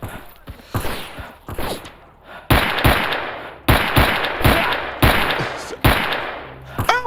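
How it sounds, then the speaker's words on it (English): Shotgun blasts in a video game boom out one after another in a steady series of sharp, loud reports, each trailing off, with quieter game noises between them. "Oh, shotguns, that would do it."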